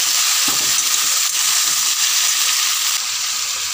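Green chillies hit hot oil in a pan for a carp curry with ridge gourd and potato, giving a loud, continuous sizzle and hiss close up, steady throughout with faint stirring knocks.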